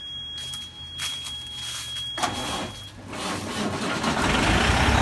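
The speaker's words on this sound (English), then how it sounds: "my truck, when you start it, it hesitates" A large semi truck diesel engine cranks with a few halting bursts, hesitating as it starts, then catches and rumbles into a steady, loud idle close by.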